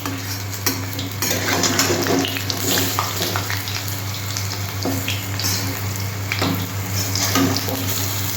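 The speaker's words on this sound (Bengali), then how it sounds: "আমি বড়াগুলো এবার উল্টে দিচ্ছি" Masoor lentil fritters sizzle steadily in hot oil in a pan just after being flipped. Soft scrapes and clinks of a spatula come and go over a constant low hum.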